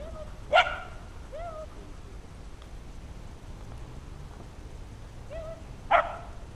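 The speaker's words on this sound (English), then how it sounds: "Tuneful dog call." Outdoors, a dog gives two short, tuneful yelping calls several seconds apart, each rising briefly over a quiet, steady background.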